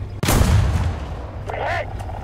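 A tank cannon fires in the War Thunder video game with one loud, close boom that rumbles on and fades. A short voice line then plays over the decaying sound.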